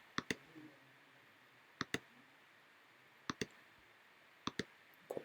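A laptop trackpad clicks in paired taps, four quick double clicks spread across a few seconds, faint and close in an otherwise quiet room.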